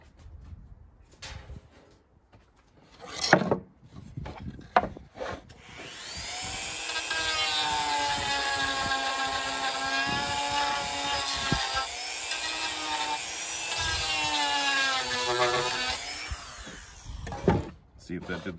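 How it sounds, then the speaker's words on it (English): Power sanding on an Arcade1Up Countercade arcade cabinet bezel, a steady whining grind with shifting pitch lasting about ten seconds, preceded by scattered knocks and handling clatter. "That top corner right here, we just need to sand in a little bit more."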